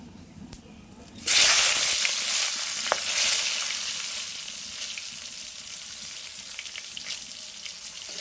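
Dried chilies, bay leaf and chopped tomato hit hot oil in a pan, a loud burst of sizzling and hissing that settles into a steady frying crackle.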